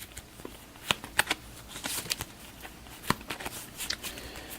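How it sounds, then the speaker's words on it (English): A deck of cards for the board game Aeon's End is shuffled repeatedly, crisp riffling bursts and snaps at close range in a quiet room. "Trying to make sure this deck gets a good shuffle."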